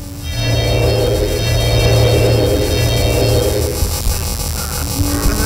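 Layered sound effects blend a scratchy, glitchy crackle with a deep bass rumble and a creepy sustained hum, forming one dense, steady texture that swells slightly and then fades.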